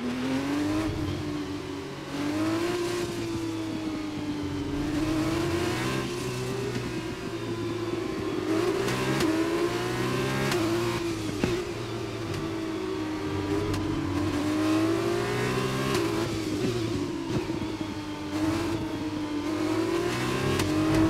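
Formula 1 race car engines scream from the F1 2021 video game, a continuous high revving wail rising and falling through gear changes, with other cars whirring nearby.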